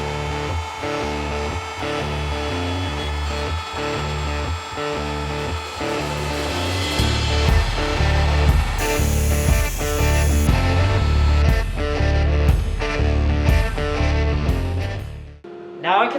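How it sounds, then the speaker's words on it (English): A CNC router runs a 3D roughing toolpath with a 1/4 inch end mill, cutting semicircular cable reliefs into a caddy for an AVID CNC; a steady, loud machining roar with repeating rhythmic passes and a brief drop near the end. "I can run my 3D roughing toolpath with the same 1/4 inch end mill"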